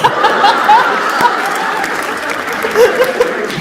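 Applause and laughter ripple through the audience at a stand-up comedy show, a dense patter of clapping mixed with chuckles that stays fairly loud and even across the moment.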